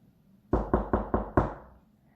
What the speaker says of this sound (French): Maman frappe à la porte.